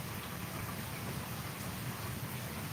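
Steady heavy rain pours down during a thunderstorm with a tornado watch and flood warning, a dense, constant hiss with low rumbling thunder underneath and no voices.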